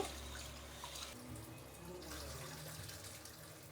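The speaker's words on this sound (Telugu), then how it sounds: "ఇప్పుడు నీళ్ళు పోసుకొని నైట్ అంతా పక్కన పెట్టేద్దామండి" Water poured over washed grains in a bowl to soak overnight for a Karnataka-style festive offering powder, a continuous nearby splashing flow with small surges, steady for several seconds without speech.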